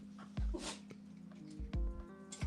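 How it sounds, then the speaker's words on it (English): Puppies whimper and yelp in several short, high cries spread across the moment, with low thumps and faint background noise between them and no talking. "Puppies."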